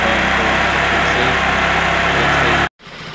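A loud, steady small 125cc motorcycle engine, a Gilera DNA 125, runs close by with a high, buzzing drone, then cuts out abruptly near the end, leaving faint background noise.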